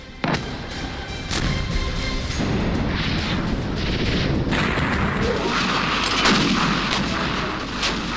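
Heavy explosions and blasts from missile strikes on cities in Ukraine during the war, loud and continuous, with dense rumbling booms and crackling impacts filling the whole stretch, no clear speech.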